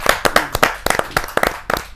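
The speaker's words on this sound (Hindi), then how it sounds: "जोरदार ताली के साथ रसिक गुप्ता जी का स्वागत।" Audience at a kavi sammelan, a Hindi poetry gathering, applauding to welcome a poet: brisk, uneven clapping from a small crowd, bursts of hands close to the microphone, with no talking.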